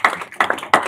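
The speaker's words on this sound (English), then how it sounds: "we should clap." A few sharp hand claps ring out at a Michigan State Board of Education meeting, three quick, distinct bursts in under a second, close and fairly loud.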